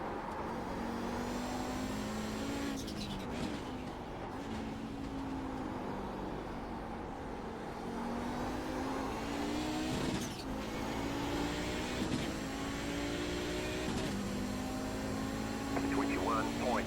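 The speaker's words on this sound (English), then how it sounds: "Group of faster cars approaching." A group of faster race cars approaches in an iRacing IMSA Vintage race at Mid-Ohio, with an Audi 90 GTO among the field. Engines drone steadily with rising and falling pitch through gear changes, loud and close, with no talk over them.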